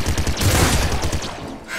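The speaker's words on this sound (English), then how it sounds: "They just shot at me." Rapid gunfire from enemies in the Nuclear Throne video game, a dense burst of overlapping shots and blasts rattling loudly and continuously with no talk.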